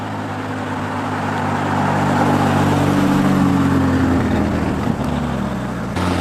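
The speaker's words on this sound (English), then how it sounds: "That was a McLaren 570 GT." A McLaren 570 GT supercar passes by, its engine rising to a loud, steady roar over a few seconds before easing off as it goes by.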